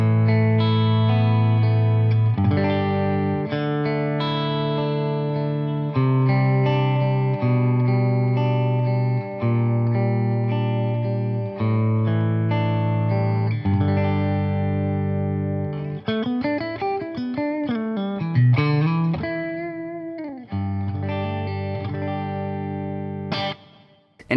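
Distorted electric guitar through a Grossmann FatBox, recorded with a Sontronics Delta ribbon microphone, plays sustained chords and riffs, full and warm with a solid low end, steady and loud throughout with no talking.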